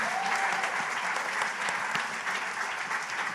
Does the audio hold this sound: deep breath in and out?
no